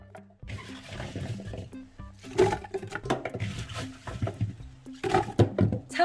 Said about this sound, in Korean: 믹서에 사과를 갈겠어요